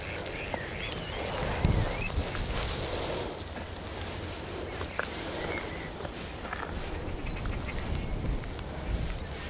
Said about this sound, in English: Oh no, they are ducks.